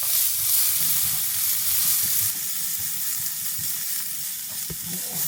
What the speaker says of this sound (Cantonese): 將啲洋葱粒炒香